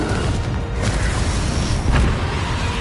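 Confringo fire spell blast in the Hogwarts Legacy video game: a dense, loud, rumbling explosion that roars continuously for the whole stretch, with a couple of brighter surges, and no one talking.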